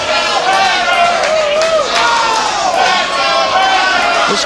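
A wrestling crowd at a women's title match chants rhythmically in support of Teal Piper, with a loud, echoing arena roar and voices rising and falling in unison under close commentary talk.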